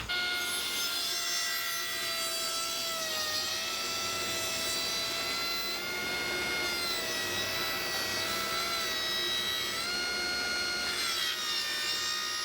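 A saw cutting through a wooden board into strips, a steady close grinding and rasping with shifting whine across the whole stretch, no voices.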